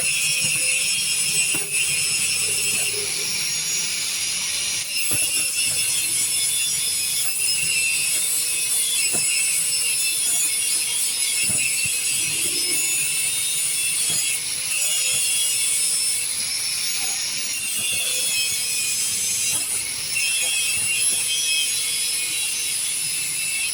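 Yamaha silencer core filter material is cut by hand in steady, repeated rasping strokes that go on throughout, close and loud over a constant bright hiss, with no one talking.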